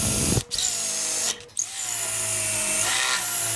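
A Festool DF700 domino joiner cuts oblong mortises in wood for breadboard ends, a loud close whining motor with two brief dips as the cutter plunges and shifts.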